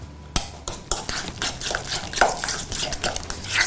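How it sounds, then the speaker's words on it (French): Plain yogurt being stirred by hand into a pulse purée in a bowl, giving soft, uneven scraping and clinking strokes with a spoon, close and fairly quiet, with no talking. "je vais prendre tout simplement un yaourt nature que je vais mélanger à ma"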